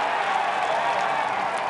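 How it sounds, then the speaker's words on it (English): Stadium crowd at a Virginia versus Notre Dame college lacrosse game roars in a dense, steady wash of cheering, distant and continuous with no breaks. "oh boy, you hear the crowd, right?"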